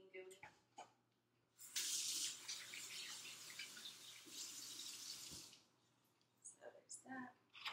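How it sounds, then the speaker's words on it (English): Running kitchen tap while hands are washed, a steady hiss of flowing water for several seconds, fairly close and quiet, with scattered splashes and handling noises before and after. "Wash my hands."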